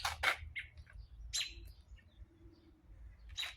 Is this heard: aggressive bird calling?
yes